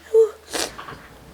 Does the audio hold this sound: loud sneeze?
yes